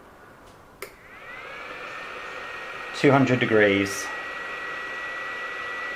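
A hot air heat gun set to 200 degrees runs with a steady broadband blowing hiss and a faint whine throughout, close by, briefly interrupted by a click and a short spoken phrase.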